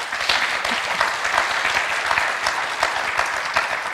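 Steady, dense applause from an audience at a political panel discussion, even clapping throughout with no talk over it.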